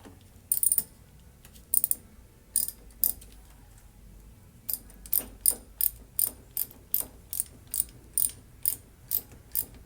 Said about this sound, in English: We'll run it down finger tight and then tighten it with the ratchet.